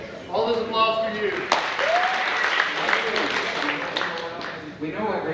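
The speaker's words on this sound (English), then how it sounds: "All this applause for you." Audience applause at a high school hypnosis show during a graduation night event, a sustained wash of many hands clapping with cheering voices mixed in, steady for several seconds and dipping briefly near the end.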